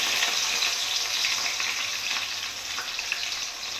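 Chopped onion fries with bay leaf in hot oil, giving a loud, steady, close sizzle with fine crackling throughout and no talking.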